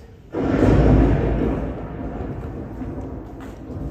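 A thunder effect in a stage play: a sudden loud, deep rumble that swells quickly, then slowly fades into a lingering low roar.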